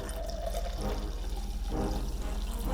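Homemade fizzy mead pours steadily from a bottle into a glass, a continuous splashing, bubbling liquid sound heard close up with no talking.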